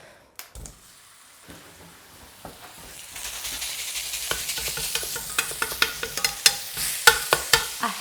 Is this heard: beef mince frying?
yes